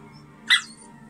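A pet dog gives a single short, sharp bark, fairly close and alone, over a low steady hum indoors.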